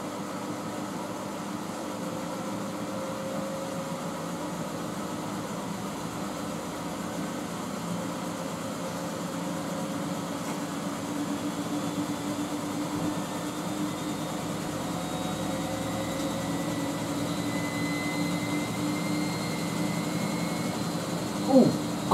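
A Miele W562 Prestige Plus 6 washing machine loaded with bathrobes spins up toward 800 RPM, giving a faint steady hum and motor whine with tones that slowly climb in pitch, then a brief clunk at the end.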